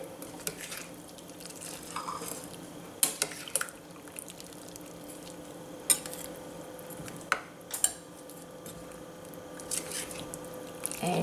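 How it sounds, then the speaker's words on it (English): A spoon scrapes and knocks through a pot of potatoes and peas curry, with scattered close clinks and soft wet squelches over a quiet kitchen background. "Mix it well."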